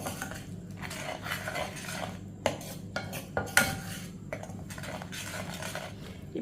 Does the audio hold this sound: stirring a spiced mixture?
yes